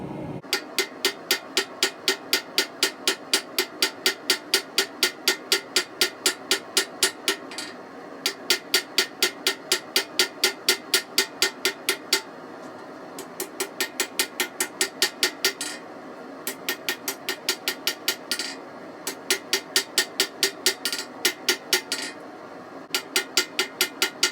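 Steady, rapid hammer blows flatten hot steel on an anvil while a BBQ fork is hand forged, ringing sharp and metallic in long bursts with brief pauses between runs, loud and close with no talk.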